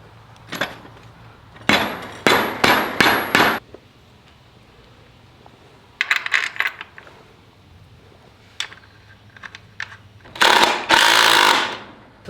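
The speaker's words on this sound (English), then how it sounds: "Barn hammer." A barn hammer drives fasteners while building a rotating chicken coop on wheels outdoors, sounding as quick bursts of four or five sharp repeated strikes separated by pauses, followed by a louder scraping rattle near the end.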